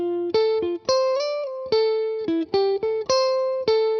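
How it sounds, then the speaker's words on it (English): An electric guitar running through a Morgan Amp Suite PR12 amp simulator, with bass slightly boosted and treble cut, plays a quick series of ringing, plucked notes and chords, bright and sparkly, alone and up close. "As you can hear, it's a pretty sparkly, jangly type of guitar tone."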